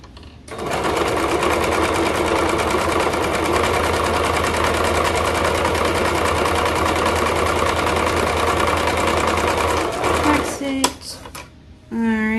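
A sewing machine back stitching a hem on girls' leggings, a steady close mechanical whir with fast rapid stitching for about ten seconds, then stopping, followed by brief handling clicks and a voice speaking.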